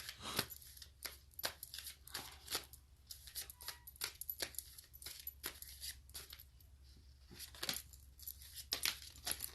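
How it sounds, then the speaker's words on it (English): Tarot cards are shuffled in the hands, making a close, quiet run of crisp slaps, flicks and riffles at an irregular rhythm with no talking. "too many cards falling"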